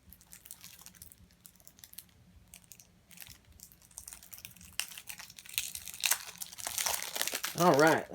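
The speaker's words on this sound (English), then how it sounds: "Today I'm going to be unboxing this little expansion pack for Islebound." Plastic wrapping on an Islebound Metropolis card game expansion pack crinkles and tears, faint at first and then louder and closer near the end, with a voice talking softly underneath.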